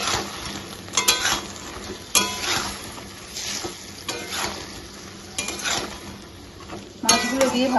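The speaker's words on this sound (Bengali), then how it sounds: "মাছগুলো দিয়ে ভালো করে নাড়াচাড়া করলাম।" Bhetki fish pieces are stirred through chilli sauce in a pan, with a spoon scraping and clinking against the metal in repeated strokes over a soft sizzle, close and fairly loud with no talking.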